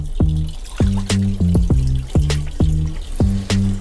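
Water trickles and splashes from a tap while gold jewelry is rinsed, steady running flow broken by repeated bright dripping plinks at a fairly regular pace, close and loud with no voices.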